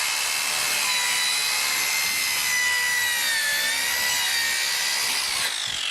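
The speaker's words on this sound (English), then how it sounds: "the door saw will cut through an exterior door or an internal door" A DualTools CS450 dual saw plunge cuts through a door, giving a loud, steady high-pitched whine and rasp of blades grinding into wood that runs unbroken for about six seconds with no talk.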